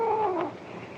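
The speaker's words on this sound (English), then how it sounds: "They ain't skunks, it's cats." A cat gives a single drawn-out, wavering meow in an old Western frontier setting, close and clear over a faint background hiss, lasting about half a second.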